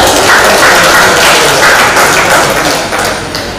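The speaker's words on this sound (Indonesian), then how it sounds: "Kita berikan aplaus untuk kita semua." Audience applause fills a regency election debate hall, a dense, steady clapping that holds loud for several seconds before easing slightly toward the end.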